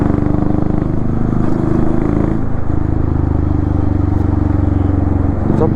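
A 350 motorcycle engine runs while riding, giving a loud, close, continuous thumping drone with steady rhythm and wind rush and no break in the sound.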